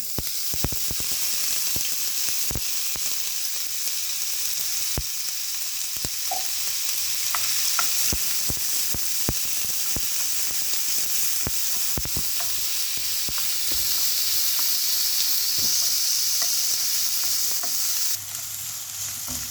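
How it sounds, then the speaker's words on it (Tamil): Onions and mustard seeds sautéing in a little oil give a steady close sizzle, broken by frequent sharp clicks and taps of a stirring spoon against the pan throughout. "இந்த வெங்காயத்தை லைட்டாக வதக்கிக்கலாம் போதும்."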